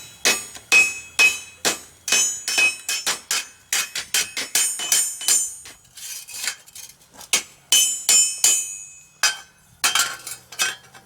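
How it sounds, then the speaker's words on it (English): Hammer striking hot steel on an anvil while forging a fireplace shovel head: a steady run of sharp, ringing metallic blows, loud and close, in an uneven rhythm with brief pauses. "I got some hammer blows off center a little bit there"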